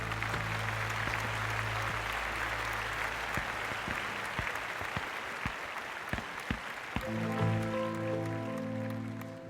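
Audience applause at a stage award presentation as the association president comes up to hand over an award, steady dense clapping throughout, with sustained tonal music underneath that shifts near the end.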